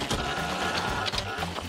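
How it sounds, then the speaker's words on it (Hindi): A small toy-style printer printing in a kid's craft setting, a steady whirring, clattering mechanical hum with rhythmic ticks throughout, close and fairly loud, no talking over it. "क्या मैं बढ़िया छोटा प्रिंटर इस्तेमाल करूं?"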